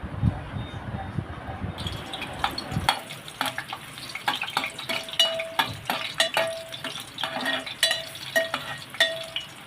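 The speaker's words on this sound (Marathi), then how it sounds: "आता त्यामध्ये मी लसूण घालून घेते" Garlic goes into hot oil in a pot for a dry prawn curry, and after a low rumbling start a steady crackling sizzle takes over, dotted with light clinks and scrapes.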